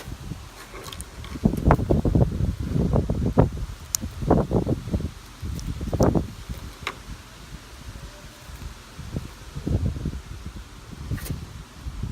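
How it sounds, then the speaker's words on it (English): Gusts of wind rustle leaves outdoors in irregular bursts, buffeting the microphone with low rumbles between quieter moments. "It's very, very windy today"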